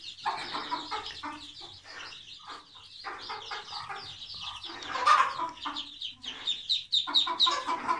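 Muscovy duck with eight newly hatched ducklings, soft clucking and chirping calls in close, irregular bursts, with high peeps in the later part.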